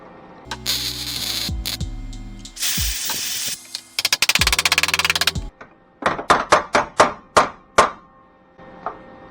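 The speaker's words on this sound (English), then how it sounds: "Give it a little taparoo. Just tap it in." A car body panel on a custom all-wheel-drive Neon build is tapped into place after welding: bursts of hiss and clatter come first, then a close series of about eight sharp, evenly spaced metallic taps.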